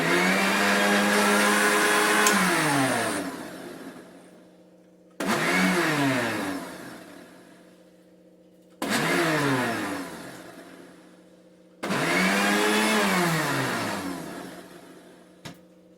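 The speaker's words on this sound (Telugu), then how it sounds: "ఒక్కసారి మిక్సీకి వేస్తున్నాను." A mixer grinder blends muskmelon and banana juice in four loud whirring bursts of about three seconds each, each one winding down before the next starts, with short quiet gaps between them and no talk.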